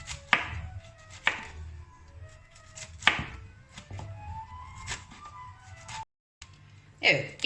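Cauliflower being chopped finely with a knife on a board, sharp separated knocks at an uneven pace, fairly quiet, with soft background sound between cuts.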